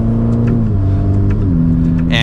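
A 2021 Ferrari Roma's engine pulls hard under acceleration, a loud, close droning note climbing through gear changes with brief pitch drops between shifts, filling the cabin from inside.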